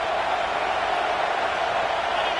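Dense, steady roar of a stadium crowd in the NCAA 26 college football video game, a continuous wash of noise with no breaks.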